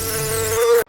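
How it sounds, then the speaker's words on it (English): Honeybees buzzing around hives in an apiary on a June afternoon, a dense steady drone of many wings with a sustained humming tone, loud and close, ending abruptly. "The apiary, well, it is buzzing."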